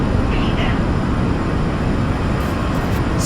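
Sustained broadband roar of PIA flight 8303, an airliner climbing after takeoff, steady and loud throughout with no pauses.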